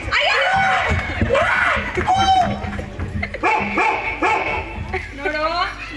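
A dog barks and yips several times in quick, uneven bursts close by, with people talking loudly over and between the barks.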